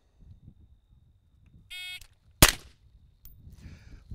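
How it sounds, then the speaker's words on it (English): On a tactical rifle shooting test, a shot timer sounds a short electronic buzzer, and moments later a single sharp, loud rifle shot cracks out over quiet background noise. "At the buzzer, you fire one shot at the designated high ready target."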